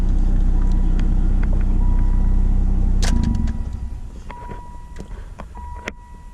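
A 1989 Shelby CSX engine idling steadily on a hot Florida day, then shutting off about halfway through, leaving a quieter background with faint clicks and ticks.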